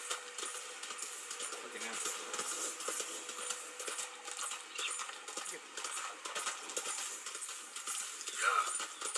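Video game horse galloping with steady, rhythmic clip-clop hoofbeats throughout, moderately loud, with faint ambient game sounds and a brief chime near the end.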